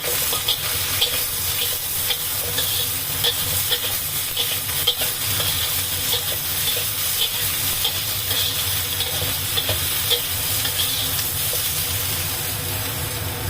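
Vegetables sizzle and hiss in a hot pan with steady scraping and stirring, continuous and close, no voices.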